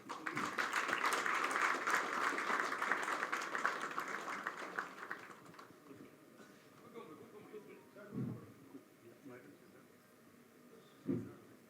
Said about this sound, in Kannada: ಅವ್ರಿಗೆ ನೀವು ದೊಡ್ಡ ಚಪ್ಪಾಳೆ ಕೊಡೋದು.